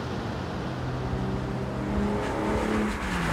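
A 1961 Aston Martin DB4GT Zagato at Goodwood drives past, its engine a steady, strong drone pulling with low-rev torque, with a slight rise in pitch and intensity toward the end and no talk over it.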